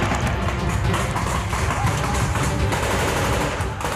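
Rifle fire from an Indian army training exercise with AK-47 and INSAS rifles, heard as a dense, continuous crackle of rapid shots that stays loud throughout.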